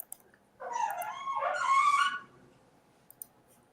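A dog whimpers and whines in the background for about a second and a half, a rising, tonal cry that stands alone without talk, followed by a couple of faint clicks.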